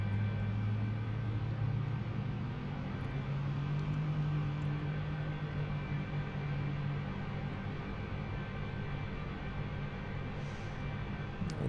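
An AH-64D Apache helicopter engine spools up in the DCS World game, a steady low rumbling drone with a rising tonal hum, continuous and fairly loud with no voices.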